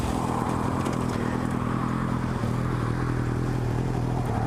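Steady engine drone and wind rush from a Kawasaki Ninja 300 sport bike cruising on the road, constant and fairly even in level with no talk over it.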